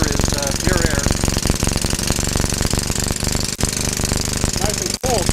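A hydrogen-fuelled engine revs hard and continuously, a loud rapid pounding clatter with a brief dip near the end, while a voice speaks faintly underneath.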